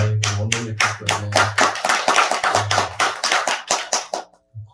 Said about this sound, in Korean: 나 박수를 칠 때 제일 좋더라고요.